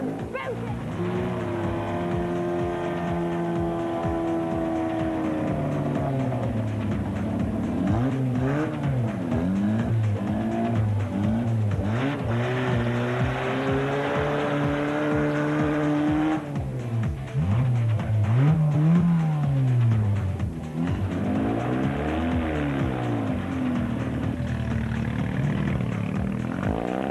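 Modified push-me-pull-you car accelerating, a loud engine rising and falling in pitch through repeated revs and gear changes, sustained and close, with possible shouting mixed in.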